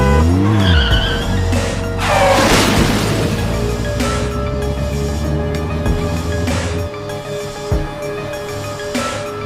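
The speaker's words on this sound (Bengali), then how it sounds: "এ কি চালক ভাই, গাড়ি এত জোরে চলছে কেন? মশাই, মনে হচ্ছে গাড়ির ব্রেক ফেল হয়ে গেছে।" A cartoon car racing out of control with failed brakes: a loud rising engine whoosh, a sharp screeching skid of tires, then a fading rumble with a small thud near the end.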